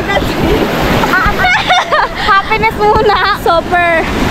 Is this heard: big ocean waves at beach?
yes